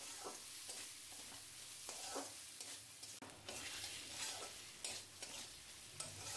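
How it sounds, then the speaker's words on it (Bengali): Fried potato pieces being stirred and sautéed with spice paste in a pan for a Bengali prawn curry, with a steady sizzle and repeated scraping stir strokes, close and continuous. "আলুর টুকরোর সঙ্গে মশলার সঙ্গে আরও বেশ কিছুক্ষণ ভালো করে আমি কষিয়ে নেব।"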